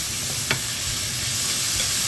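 Aubergines stir-frying in oil in a wok alongside fresh vegetables, a steady close sizzle with one brief stirring scrape near the middle.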